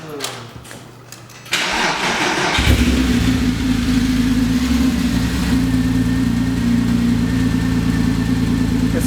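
Porsche Cayman engine cranking and catching after a clutch and lightweight flywheel install, then settling into a loud, steady rumbling idle with light revving, close by in a garage.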